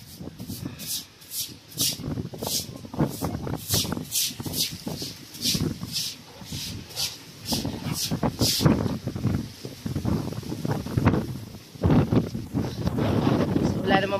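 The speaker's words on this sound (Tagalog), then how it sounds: "medyo malakas pa ang hangin." Strong gusty wind buffets a rooftop in the aftermath of Typhoon Uwan, roaring steadily with rushing surges and some rattling, while someone talks over it almost throughout.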